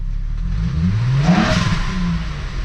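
A stock VW Jetta wagon with stock exhaust and an aftermarket cone filter revs up and back down once, the engine rising in pitch with a pronounced intake whoosh, close and loud.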